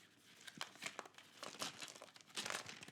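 Blood Bowl box packaging crinkles and tears in a run of close, crisp rustling bursts, loud and uneven, with no talk over it.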